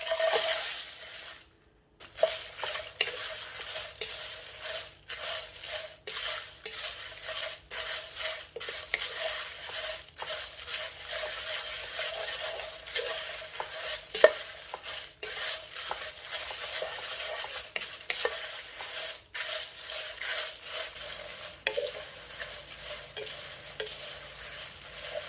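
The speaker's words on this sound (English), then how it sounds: "You have to do is toast your chili pepper." Chili peppers toasting in a dry pan for Lao jeow bong, with faint scraping and stirring against the metal and a soft sizzle running steadily in the background, quiet and close.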